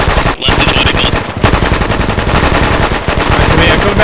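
Sustained machine gun fire at cyclic rate in a military simulator game, a loud, dense, continuous stream of rapid shots with barely any break, running the whole time.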